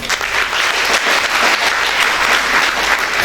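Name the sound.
audience applause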